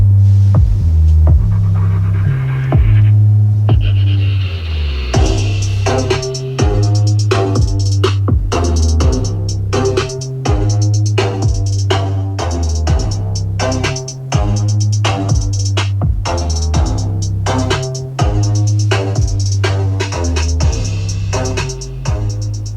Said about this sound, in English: Let's go ahead and sample this standard Bose sound system.